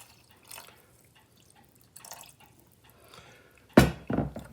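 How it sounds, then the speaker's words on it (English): Quiet kitchen near-silence broken by a few soft trickles, then a short, louder splash of water being poured into a bowl of turmeric salad dressing. "I'm going to thin this out with just a little bit more water."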